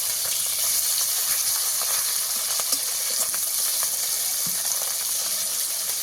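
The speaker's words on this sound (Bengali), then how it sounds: "চুনো মাছ এক পিঠ লাল লাল করে ভাজা হয়ে গেলে তবেই উল্টে দেবো।" Small chuno fish fry in hot oil, producing a steady close sizzle with scattered pops and crackles throughout, no voices.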